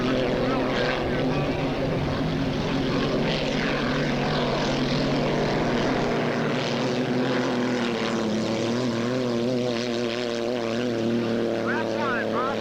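A hydroplane racing boat powered by a Chevy V6 roars continuously and loudly, with a steady droning engine note throughout. A race announcer talks over it.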